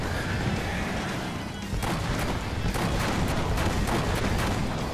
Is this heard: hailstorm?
no